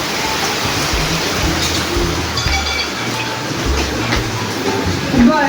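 Heavy rain pours down in a loud, steady roar that fills the whole clip, with a low rumble underneath and no clear voices.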